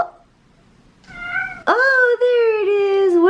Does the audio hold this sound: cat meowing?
yes